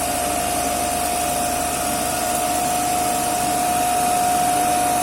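A three-phase alternator set runs under electrical load at about 1500 RPM, giving off a loud, steady mechanical drone with a constant whine that holds unbroken throughout, with no voices.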